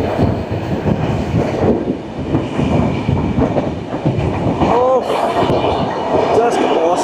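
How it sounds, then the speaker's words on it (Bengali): Kriya Yoga Express running from Howrah to Ranchi: loud, close rumble and rhythmic clatter of wheels on track, with a brief metallic squeal midway and someone talking over the noise. "রাত্রিবেলা যে স্পিডে ট্রেন টেনেছে জাস্ট বলার নয়। আর এখন যাচ্ছে"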